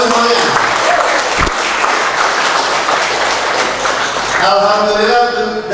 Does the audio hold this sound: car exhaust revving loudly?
no